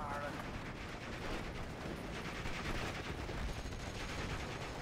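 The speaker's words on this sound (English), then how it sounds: "dropping mortar rounds in" Mortar rounds land in the WWII strategy game Steel Division: Normandy 44, a continuous muddle of distant explosions and crackling gunfire at a low, even level under a rumbling battlefield bed.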